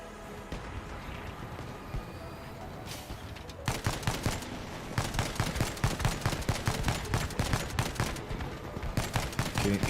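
Guns mounted close together on a vehicle in the game Crossout fire in dense, rapid volleys, starting sparse and then building into continuous loud rattling bursts.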